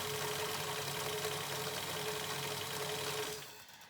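A sewing machine runs steadily, stitching along the fabric edges of a scrubs hat to stop them fraying. The motor hums evenly at close range and stops near the end.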